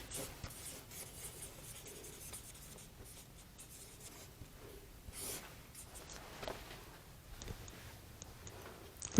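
Handwriting with a pen on paper as affirmations are written out, soft continuous scratching and rubbing strokes close by, faint and steady with small pauses, and no talking.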